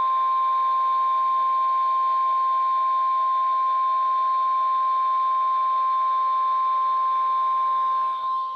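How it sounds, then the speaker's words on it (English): A steady, loud emergency alert system test tone from a National Weather Service broadcast holds unbroken for several seconds, a pure high pitch with no voices, cutting off abruptly at the end. "The tones you just heard were a test of the specific area message encoding and tone alert systems"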